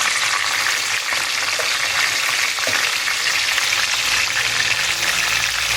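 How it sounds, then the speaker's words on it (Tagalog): Pork and chicken legs for adobo fry in a pan with a steady, loud, close sizzle that hisses on without a break. "Ilagay ko na ang chicken leg para magkasabay."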